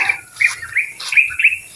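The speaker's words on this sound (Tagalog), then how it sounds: "Maririnig mo lang mga huni ng ibon" Small birds chirp and sing in a quiet rural spot in Bicol, with several short bright calls and trilling phrases repeating close by over a faint low background rumble.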